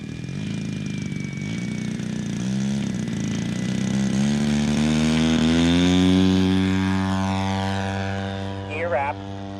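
A Seagull Models giant scale balsa Zero RC plane with an EME60 gas engine drones loudly and steadily, its pitch rising and settling as it climbs away on its maiden flight, then fading slightly at the end.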